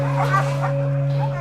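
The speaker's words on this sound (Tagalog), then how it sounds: "Ito si Jubilon, isa siyang Belgian Malinois, isa siya sa mga pinakamatanda ng dogs dito." An aged eight-year-old Belgian Malinois army dog, weak and blind in one eye, gives a few short barks and whimpers over a steady electrical hum, close and moderately loud.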